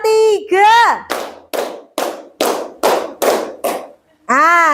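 Children in a classroom clap hands in a counting game, about seven sharp, evenly spaced claps close to the listener, with a voice talking just before and right after.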